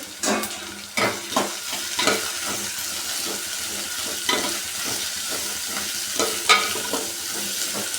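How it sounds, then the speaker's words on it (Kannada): Onions and curry leaves frying in a pan, giving a continuous sizzle. Frequent rhythmic spatula scrapes and stirs sound close and fairly loud over it. "ಈರುಳ್ಳಿ ಚೆನ್ನಾಗಿ ಫ್ರೈ ಆಗಲಿ ಕರ್ಬೇವಿನ ಸೊಪ್ಪು ಹಾಕೋತಾ ಇದ್ದೀನಿ"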